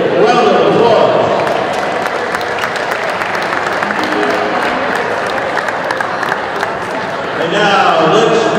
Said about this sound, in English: Please give our officials a big round of applause.